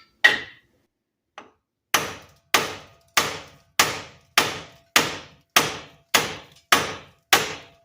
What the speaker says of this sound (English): use my air hammer.